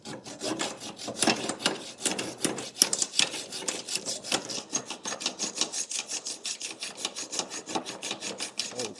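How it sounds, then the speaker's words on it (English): A hand hacksaw cutting through a metal pipe, heard as fast, steady back-and-forth rasping strokes close by, continuing without a break and with no talking. "I'm going to cut out this pipe, and I'm going to use my hacksaw to begin with"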